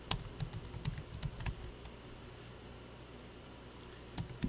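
Quiet keystrokes on a computer keyboard in a small burst of taps, a pause, then a few more clicks, near and faint with no talk.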